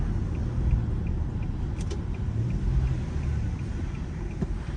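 Infiniti G37 driving on mountain roads, heard from inside the car as a steady engine and road roar with wind noise.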